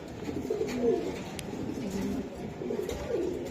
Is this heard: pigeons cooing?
yes